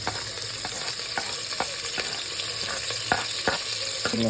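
Onion, chili, cinnamon, cloves, garlic and cashews sizzle in ghee inside a cooker, with a steady frying hiss and repeated sharp scrapes and taps of a spoon as the mix is stirred.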